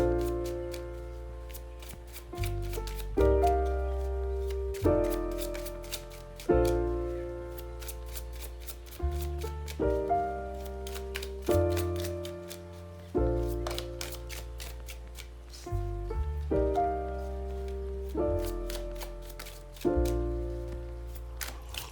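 Tarot cards are shuffled repeatedly with crisp, rapid riffling and flicking under steady background music with sustained chords, continuing through the whole stretch.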